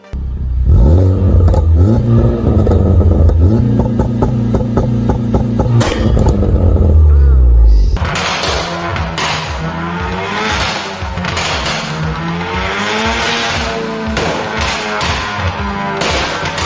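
A Honda Civic Type R FK8 engine revs hard in the Need for Speed video game, rising and falling through several throttle blips, then settling into a steadier, quieter drone with gear-change steps, loud and close with no talk.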